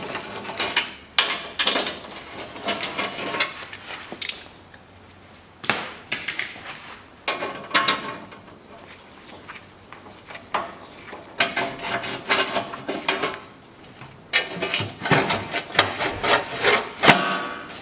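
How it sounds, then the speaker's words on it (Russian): Bolts on the underbody skid plate of a 2007 Ford Ranger 2.5 Turbo being unscrewed, giving close, repeated bursts of ratcheting clicks and metallic rubbing with short pauses between them, and no talking. "Откручиваем 4 болта."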